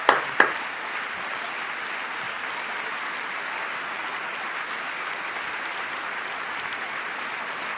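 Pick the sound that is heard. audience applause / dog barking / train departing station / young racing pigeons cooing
audience applause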